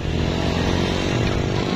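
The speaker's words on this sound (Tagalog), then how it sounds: "nakasakay na ako ngayon sa motor" Steady, loud motorcycle engine drone while riding without a helmet on a mountain road, continuous and close with no talk over it.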